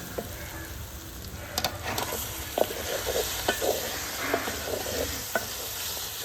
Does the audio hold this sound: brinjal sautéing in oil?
yes